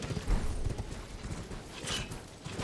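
Rapid clip-clop of a horse galloping in Elden Ring on the Weeping Peninsula, a steady close hoofbeat rhythm under game ambience and battle sounds, with no talking.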